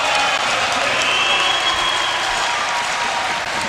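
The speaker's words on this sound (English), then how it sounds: "And the crowd comes to life." Volleyball crowd at a 1993 men's match against UC Santa Barbara erupts in steady, loud cheering and applause after a blocked point, a dense roar filling the whole moment without a break.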